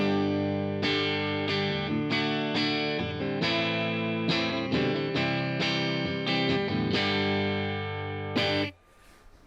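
An electric guitar played dry through a Strymon Iridium amp simulator rings out in a run of loud, sustained, distorted chords struck one after another, then stops abruptly into faint hiss.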